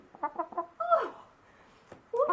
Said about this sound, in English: Why are you clucking so much?